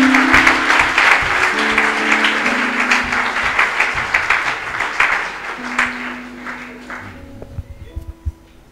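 A church congregation applauds at a Sunday service, loud sustained clapping from many hands with a few raised voices mixed in, slowly thinning and fading into scattered claps near the end.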